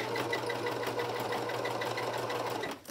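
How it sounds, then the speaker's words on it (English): A sewing machine zigzag-stitches through a doll dress ruffle and bodice, a steady close mechanical whir with a rapid even needle rhythm that runs continuously before cutting off at the end. "you're sewing both through the ruffle part and the bodice here"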